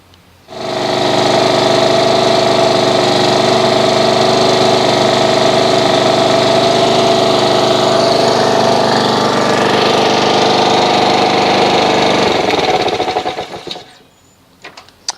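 A 2014-era Honda HRX217 lawn mower engine runs at a steady, loud idle with a constant droning hum for about twelve seconds, then shuts off and sputters into quiet. No one speaks over it.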